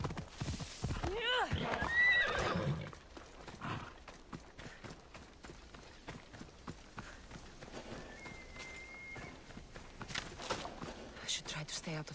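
A horse in Assassin's Creed Odyssey lets out a loud neigh, then gallops off with rapid rhythmic hoofbeats, close at first and gradually steadier, with a voice speaking over part of it.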